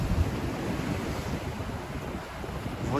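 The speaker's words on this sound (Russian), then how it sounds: "Ох, какие волны." Storm waves crash against the night seafront in Yalta, Crimea, a dense continuous roar of surf churned with gusty wind noise on the microphone, loud and steady throughout with no talking.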